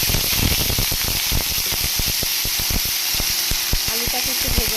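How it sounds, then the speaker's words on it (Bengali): Cut potatoes, seasoned with turmeric and salt, fry loudly in hot oil with panch phoron, bay leaf and cinnamon, a dense steady sizzle with crackling pops running throughout at close range. "আলুটাকে একটু ভেজে নেব"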